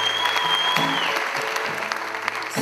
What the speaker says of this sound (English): how about a round of applause for Alana Stone?